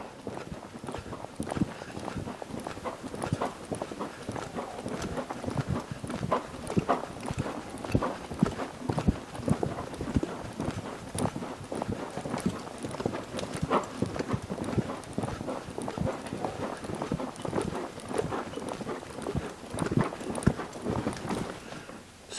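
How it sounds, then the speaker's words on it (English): A horse lopes steadily around an arena, its hooves drumming a continuous, even rhythm of muffled clip-clop beats throughout, with faint background noise and no clear speech. "when you pick up the lope with your horse and horse continue traveling and be very consistent in this forward motion"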